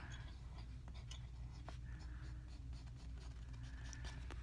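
Dry, scratchy drawing strokes on paper coated with acryla gouache, quiet and close, with a few sharper taps among the soft scraping.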